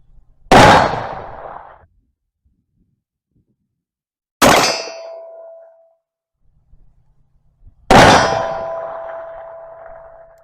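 Three 1851 Colt Navy revolver shots with a 4 3/4 inch barrel, each a sharp crack followed by a ringing clang from a large steel target at 26 yards, spaced several seconds apart with a fading metallic ring.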